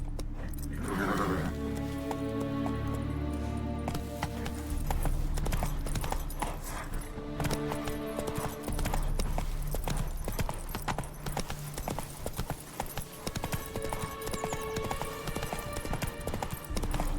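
Horse hooves clip-clop at a steady trotting gallop in The Witcher 3, rhythmic and close, with tack jingling and music underneath for the whole stretch.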